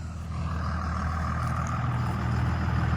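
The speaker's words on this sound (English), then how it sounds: "going home in the service truck" Peterbilt 379 service truck pulling away, a steady low diesel rumble with a constant engine drone throughout, fairly close and unbroken, no voices.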